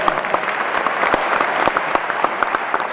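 An audience at a PDKB party political rally in Sibolga bursts into dense, continuous applause, many hands clapping close and loud without pause.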